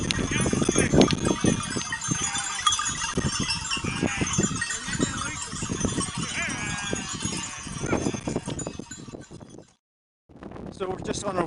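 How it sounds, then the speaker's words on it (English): A flock of sheep bleats repeatedly on a windy mountain trail in the Lefka Ori of Crete, mixed with clanking bells and footsteps, fairly close, while a person talks over the animals before a brief dropout. "Just passing a flock of sheep"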